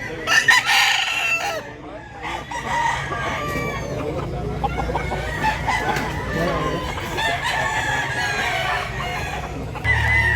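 Roosters and chickens at a live fowl market in Mantalungon, Barili, Cebu crow and cluck repeatedly, close and loud, amid a busy crowd with people talking in the background.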